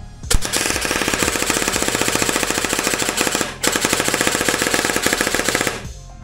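Novritsch SSR15 airsoft rifle shooting in binary trigger mode, a loud, steady stream of rapid mechanical shots lasting several seconds with one brief pause midway, close and alone with no talking.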